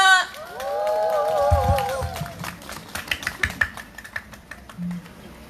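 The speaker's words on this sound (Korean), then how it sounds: "행정문화위원 임은성 위원님 참석해 주셨습니다. 큰 박수 부탁드릴게요." Audience applause at a lunchtime band concert by city officials, welcoming a city council member; a voice rings out at first, then scattered claps build into a patter of hands with crowd murmur.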